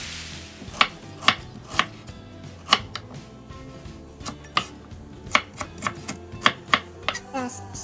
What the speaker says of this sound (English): I need to cut the ginger